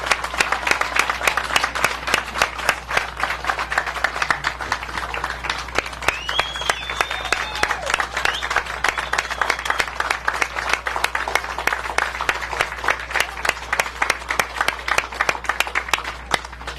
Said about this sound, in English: Let's give the round of applause to the task force members